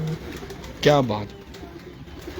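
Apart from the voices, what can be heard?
pigeons cooing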